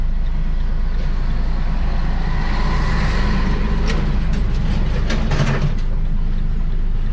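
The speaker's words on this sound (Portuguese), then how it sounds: "Espera o caminhão passar." A truck passes close by on a road during a driving lesson, a steady loud roar of engine and tyres with rising rumble and hiss, brief clatter near the end, and no talk over it.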